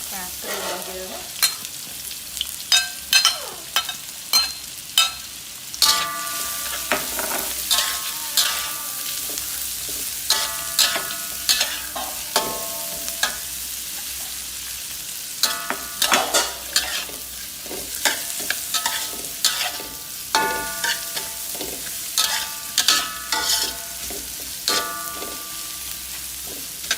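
Spice paste stir-fried in pork lard for eel with holy basil, a long run of repeated spatula scrapes and tosses over a constant close sizzle, with no talking.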